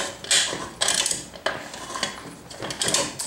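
Ratcheting and grinding mechanical clicks from a nut being tightened on a loose Alvin CL1755-B swing-arm combination lamp, coming in several close, loud bursts separated by short pauses.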